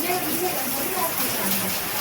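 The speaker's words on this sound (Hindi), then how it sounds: "शाम में देखिए कितनी तेज़ बारिश हो रही है" Heavy evening rain pours down in a steady, dense hiss that fills the whole moment, loud and close without letup.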